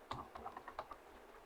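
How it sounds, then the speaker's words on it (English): Text being typed in the Pixellab design app, heard as about eight quick, faint tapping clicks in an irregular rhythm, close and alone in a quiet room. "Then I will type worship."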